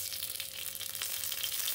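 Garlic frying in hot oil, a steady soft sizzle and crackle heard up close and alone, with no one talking.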